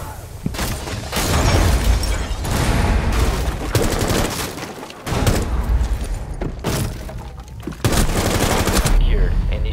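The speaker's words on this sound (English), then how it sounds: "Throwing frag grenade." A frag grenade bursting amid heavy gunfire in Rainbow Six Siege: loud bursts of rapid shots and booms continuing almost without a break, cut by a few sharp gaps.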